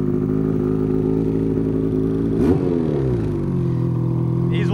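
A loud BRP vehicle engine runs steadily close by, a deep rumbling idle that briefly rises and falls in pitch mid-way, with no talk.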